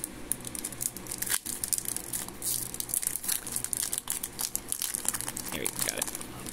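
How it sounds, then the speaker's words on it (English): A taped Yu-Gi-Oh Ancient Guardians bonus booster pack is torn and wrestled open up close, with a run of loud crinkling foil and ripping bursts over several seconds and a voice talking faintly underneath. "opening the bonus pack, which take a little bit of extra effort because it was taped to the top of this thing"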